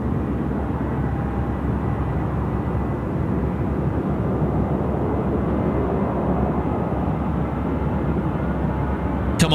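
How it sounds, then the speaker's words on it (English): A Qantas Boeing 737-800 at Sydney Airport spools up for takeoff at night, heard as a steady, distant broadband jet roar that holds evenly throughout. "The spool up. You can hear it."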